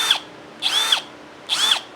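Hercules 20v brushless cordless drill spinning up in short bursts in a home shop, three quick whirring runs each ending with an abrupt brake stop, close and fairly loud with quiet gaps between.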